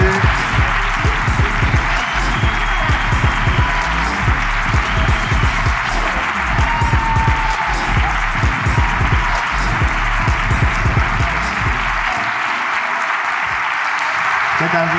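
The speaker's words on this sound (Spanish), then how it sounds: "Ahí está el aplauso." Live audience applause during a comedy podcast show, a loud sustained wash of clapping running throughout, with a rhythmic thumping layered underneath before it thins out near the end.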